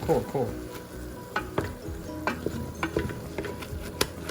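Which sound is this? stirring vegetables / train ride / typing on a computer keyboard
stirring vegetables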